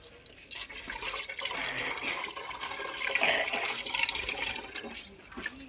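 Water pours steadily into a washing machine during a wiper pump motor replacement, a close, rushing splash that swells slightly toward the middle.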